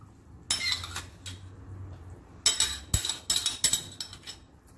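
A metal spoon stirring a stew of meat and tomato paste in a pot, with several separate bursts of clinking and scraping against the metal between quiet pauses.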